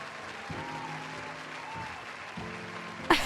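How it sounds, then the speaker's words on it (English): Applause sound effect marking the unlock of a rare tea item in a game, a steady patter of clapping that runs the full length of the clip at moderate volume, with a brief chime near the end. "Do you hear the clapping?"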